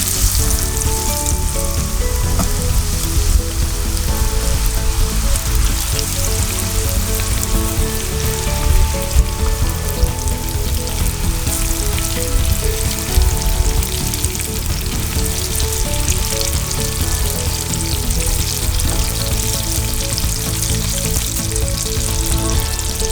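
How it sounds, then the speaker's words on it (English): Marinated fish fries in sesame oil with a steady, dense sizzle and crackle that holds evenly throughout, close and continuous with no voices. "Add enough sesame oil to fry the fish. Add your marinated fish."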